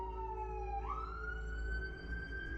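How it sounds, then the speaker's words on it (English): A siren wails steadily across the whole stretch, its pitch sliding upward partway through, sounding somewhat distant over a constant low rumble of traffic. No one speaks. "You hear the sirens?"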